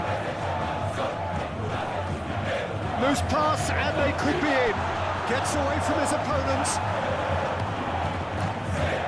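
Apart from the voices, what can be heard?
crowd cheering in PES 2021 football video game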